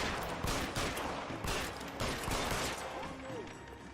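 Gunfire in the LA Noire video game, a fusillade of sharp shots spread across a dense, busy mix of game sound, with a voice talking alongside.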